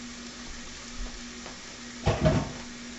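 Ground beef sizzles in a hot pan, quiet at first and then bursting louder as the meat hits the surface, with a steady hum underneath.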